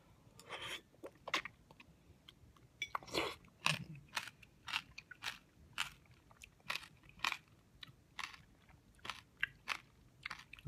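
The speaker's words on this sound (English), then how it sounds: "The seeds obviously are crunchy." Someone chews crunchy seeds in a slimy Asian dish, giving a close run of sharp, irregular crunching bites and mouth sounds that continue steadily for several seconds, with no talking.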